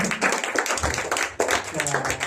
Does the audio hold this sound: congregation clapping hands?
yes